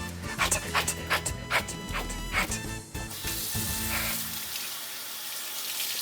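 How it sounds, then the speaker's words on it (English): Tap water runs in a kitchen sink to rinse chili pepper seeds out for restaurant-style salsa; a few sharp knocks come first, then a steady hissing stream. "I'm gonna run it over to the sink and wash out the seeds."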